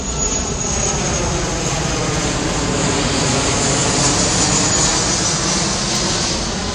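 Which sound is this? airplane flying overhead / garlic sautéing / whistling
airplane flying overhead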